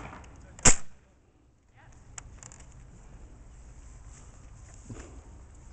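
A modified Nerf Longshot blaster fires a single dart without its barrel, a sharp near snap followed by a faint thud of the landing and quiet background shuffling.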